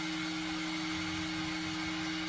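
A heat gun blows hot air onto sodium silicate brushed on a B-Mix 5 clay pot with grog, making a steady, loud, unbroken whooshing hum throughout.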